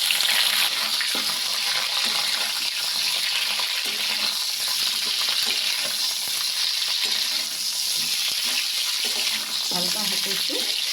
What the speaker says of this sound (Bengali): হালকা হাতে একটু ফ্রাই করে নেব।